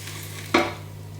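Shallots caramelizing in a pan give one brief, soft stir with a light sizzle. It rises over a quiet, steady kitchen hum and fades within a second.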